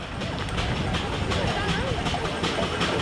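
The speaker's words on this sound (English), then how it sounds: "a 1921 18-horse Advance Rumley Universal Traction Engine" A 1921 18-horsepower Advance Rumley Universal steam traction engine runs at a steam show, a steady mechanical rumble and chuffing with rhythmic clanking, while someone talks over it.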